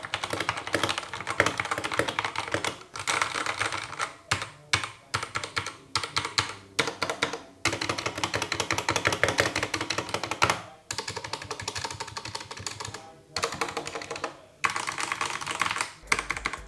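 Typing on a budget $30 keyboard with rattly stabilizers produces a dense run of clacky keystrokes close up, broken by several short pauses over sixteen seconds, with no talking.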